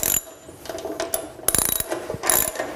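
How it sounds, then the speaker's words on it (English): Ratchet wrench tightening a nut on the motor mount of a Laguna 3000 Series bandsaw, a series of quick, crisp metallic clicks in short bursts, close and clear with no talk. "I'll run this nut down to make sure that it doesn't back off"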